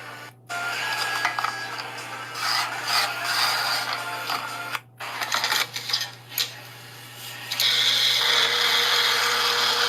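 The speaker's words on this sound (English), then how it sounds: "we're gonna take those vanilla beans and grind them together with this sugar" Chopped vanilla beans are ground together with sugar in a machine, a loud steady whirring buzz with brief pauses and shifts in pitch, with no voices.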